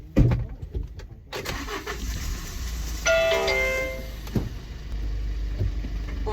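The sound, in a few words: car engine starting at a driving test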